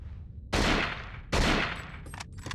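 Handgun shots in the video game Cold Fear, heard as two loud, close cracks about a second apart. Each blast decays into a rumbling tail, and a few quieter clicks and pops follow with no talk.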